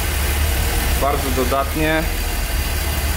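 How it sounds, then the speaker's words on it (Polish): A car engine starved of fuel, running on fumes, idles roughly with a low steady rumble and shake while someone speaks briefly over it. "Silnik odpalił, ale chodzi na samych oparach, cholernie nim trzęsie."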